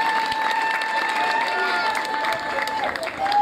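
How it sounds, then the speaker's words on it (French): A crowd at an outdoor community holiday event in Njisse-Foumban applauds, a continuous rustle of clapping mixed with steady background noise and a faint tonal hum throughout. "Je voudrais vous demander d'applaudir tout particulièrement pour cette nomenclature"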